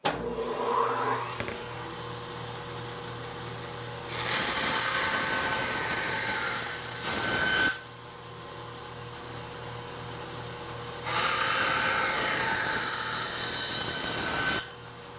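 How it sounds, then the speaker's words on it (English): Bursts of bandsaw cutting in a workshop while building a shop vac cart, two loud sustained passes of several seconds each, separated by a lower idling motor hum, close and with no talk. "I don't think the bandsaw was necessarily any faster for this application."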